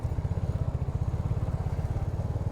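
A vehicle engine labors in second gear on a rough mountain road between Siliguri and Lava, with a steady, low, rhythmic throb that pulses evenly throughout and has no talking over it.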